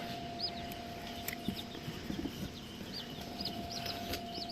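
Newly hatched chicks from an egg incubator peep in repeated short high chirps over a steady background hum, fairly faint and close, with no talk.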